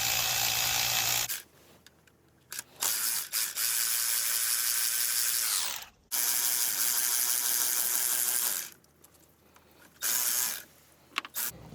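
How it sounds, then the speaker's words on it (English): A ratchet with a 10 mm socket works on the thermostat housing bolts of a 2015 Chevy Tahoe LTZ, giving close bursts of rapid clicking and whirring separated by quiet pauses. "take your ratchet with the 10 millimeter on there, and there's three bolts"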